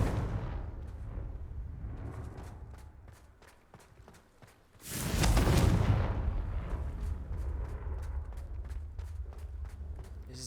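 A Confringo fire spell cast in the video game Hogwarts Legacy bursts out as a loud, broad explosive blast about midway, standing out over a busy bed of game combat sounds and scattered impacts.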